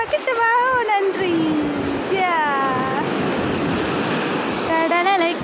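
Sea waves break on Tiruchendur beach in a constant loud roaring wash with wind, while voices call out over the surf.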